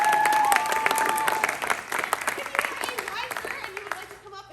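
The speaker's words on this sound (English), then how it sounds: "a writer and you would like to come up and get a round of applause again" An audience applauds after a playwriting showcase: a dense burst of clapping starts loud, then gradually thins and fades, with voices mixed in.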